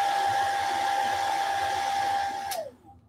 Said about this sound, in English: sorry, is my hairdryer